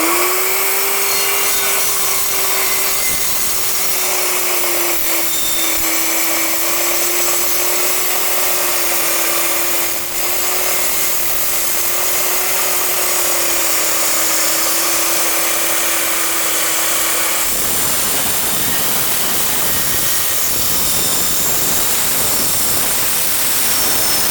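An Evolution 210mm metal-cutting circular saw cuts through steel plate, a loud sustained whine and grinding roar for about eighteen seconds, then the blade spins down into a rougher, noisier rundown.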